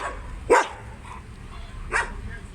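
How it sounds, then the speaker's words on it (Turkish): Two sharp dog barks ring out about a second and a half apart from dogs shut in a kennel, slightly distant and echoing, over a low background murmur. "Burada köpekler kapalı."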